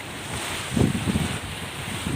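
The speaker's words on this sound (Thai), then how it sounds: "ฟังเสียงคลื่นเนาะ แล้วมันกระทบฝั่ง" Ocean waves wash onto the shore at Sattahip beach in Thailand: a steady, windy surf roar with soft swells rising and falling, and no voices.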